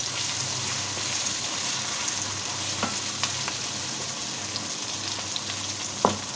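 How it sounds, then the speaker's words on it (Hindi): Onions fry in hot ghee, giving a dense, continuous sizzle close by, with a few faint clicks of stirring and no voices. "जो है वो हमारा गर्म हो चुका है घी, इसमें हम डाल देंगे प्याज, और प्याजों को डाल के हम अच्छे से फ्राई करेंगे"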